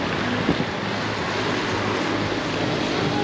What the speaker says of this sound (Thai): น้ำตกยังพุ่งอยู่ค่ะ